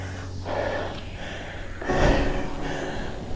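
A person climbs stairs on a steep uphill route, breathing heavily with rough gasping inhales and exhales, close and steady, with a stronger breath surging near the middle.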